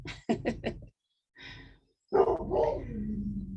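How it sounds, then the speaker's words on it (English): A dog barks four times in a quick burst, then gives a softer, breathy sound and a longer drawn-out growling whine, close by. "I am grateful for the dog that barks for me."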